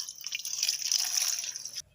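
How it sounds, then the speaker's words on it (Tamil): Water splashing and trickling continuously as flowers are swished and rinsed in clean water, close by, steady for nearly two seconds before stopping abruptly. "சுத்தமான தண்ணி ஊற்றி ஒரு ரெண்டு அலசை அலசிக்கலாம்"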